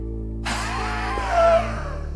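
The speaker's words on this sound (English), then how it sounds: "inhale hard." A sharp, forceful breath drawn in over steady background hum, lasting about a second before easing off.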